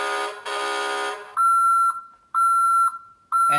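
Electronic sound effects from a 2019 Hess toy tow truck: a burst of buzzy, noisy siren tone, then a run of loud repeated electronic beeps in a steady alarm-like pattern, close up with no talking.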